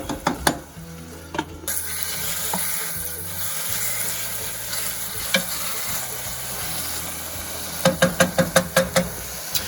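Habanero hot sauce ingredients fry steadily in hot oil, a constant close sizzle with stirring and scraping, plus a few sharp knocks against the pan near the start and a quick run of taps toward the end.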